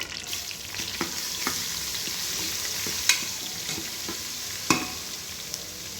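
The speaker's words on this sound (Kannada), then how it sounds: "ನಂತರ ಕಟ್ ಮಾಡಿರೋಂಥ ಈರುಳ್ಳಿ, ಹಾಕೊಂಡು ಚೆನ್ನಾಗಿ ಫ್ರೈ ಮಾಡಿ." Ginger garlic paste sizzles in a pan, a bright steady frying hiss broken by several sharp scrapes and taps of the stirring spoon, close by with no talking.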